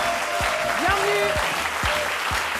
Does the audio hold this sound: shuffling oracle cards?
no